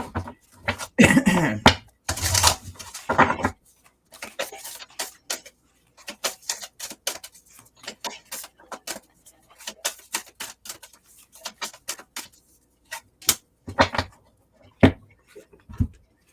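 Crisp, rapid tarot-card-shuffling riffles and soft slaps of cards, coming in irregular bursts with quiet pauses between.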